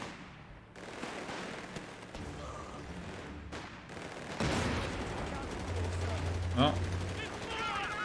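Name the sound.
enemy machine gun nest firing in the video game Company of Heroes 3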